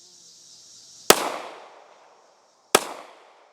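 Two sharp pistol shots from an FNX40, loud and close, about one and a half seconds apart, each followed by a short fading echo, with no talk.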